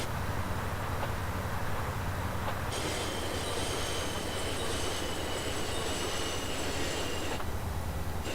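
A cargo train in GTA San Andreas rolls through an underground stop with a loud, steady rumble, and a high metallic wheel squeal rings over it for several seconds in the middle.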